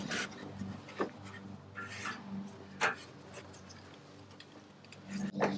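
A rag rubs firmly over a part on a Nissan Pathfinder during an oil change, making soft, close scrubbing and wiping strokes in irregular bursts with a few brief louder swipes.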